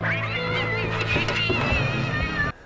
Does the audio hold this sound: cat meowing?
yes